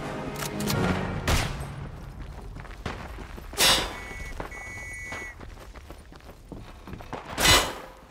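Machine gun fire and scattered shots in the World War I shooter game Isonzo, with a few loud bursts standing out over a busy battlefield background and occasional distant pops.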